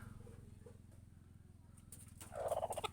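A nesting hen clucks in low, rapid, agitated grumbles close by, rising into a sharper burst of squawking near the end.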